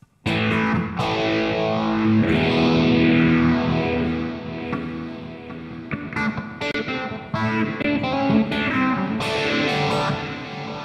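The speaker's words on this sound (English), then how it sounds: "then we've got our reverb. Now, one of my favorites is the plate." Distorted electric guitar riffs in a hard-rock style play through plate reverb on a NUX MG-400 multi-effects processor, loud and close, with sustained chords and lingering reverb tails.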